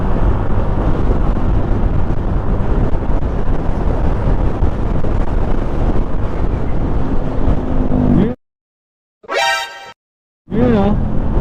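Strong wind roaring past a moving vehicle near a field of giant wind turbines in Pililla, a steady close buffeting rumble that cuts out briefly near the end with a short gap and a burst of noise.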